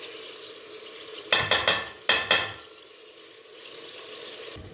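Spiced food with ginger, turmeric and ras el hanout stirred in a pot, a cluster of sharp scraping clatters in quick succession against a quiet sizzling background, no talking.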